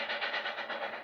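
The 1991 Daylighter excursion train rolls toward Portland with a steady rumbling roll and a soft, rhythmic clatter of wheels, fairly quiet and somewhat distant.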